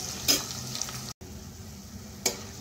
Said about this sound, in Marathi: मीडियम फ्लेम वरतीच आपल्याला कांदा व्यवस्थित शिजवून घ्यायचा आहे